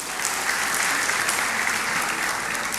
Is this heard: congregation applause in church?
yes